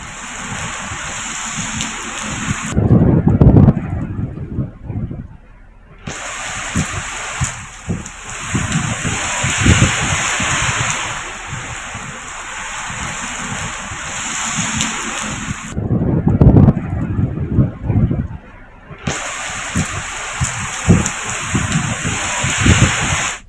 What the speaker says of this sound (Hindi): तेज हवाओं के साथ बारिश हुई है